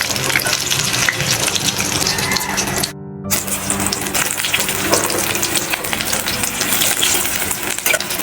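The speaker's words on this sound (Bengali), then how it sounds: "এভাবে উল্টে পাল্টে আমরা আরও 5 মিনিট অবধি ভাজবো" Stuffed spiny gourds (kakrol) fry in oil in a pan, a loud, close, continuous sizzle and crackle that breaks off for a moment as they are turned, then resumes.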